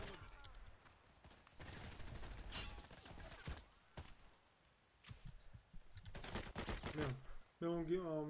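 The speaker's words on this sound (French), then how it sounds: "là il y a un mec qui a tiré" Gunfire from the video game Escape from Tarkov Arcade, with bursts of shots broken by short pauses, mixed with game mechanisms and a voice talking over it.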